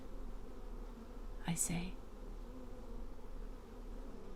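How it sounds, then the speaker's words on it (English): Bees buzz at a beehive in a steady, low, droning hum that runs throughout, with a brief whispered voice briefly over it. "It's the bees, isn't it?"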